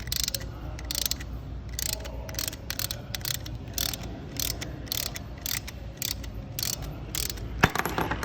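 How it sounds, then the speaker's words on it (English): A ratchet wrench tightening a bolt to press a bearing cup into a bike frame eyelet, repeated quick clicking strokes in rhythmic bursts, close and clear, ending with a sharp metallic click. "we're going to just tighten the bolt and watch as one of the bearing cups, see, there it goes."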